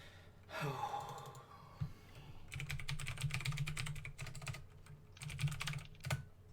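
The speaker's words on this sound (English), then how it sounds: "What are you typing, Eric?" Quiet clicking from a computer keyboard comes in quick bursts of keystrokes with short pauses between them, and a faint breath or sigh is heard near the start.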